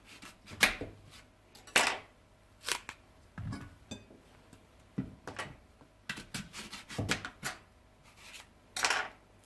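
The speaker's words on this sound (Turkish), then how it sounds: "Elmalarımızı ortadan bölüyoruz." Several sharp knife chops halving apples on a board, spaced irregularly with short pauses between cuts, close and fairly quiet.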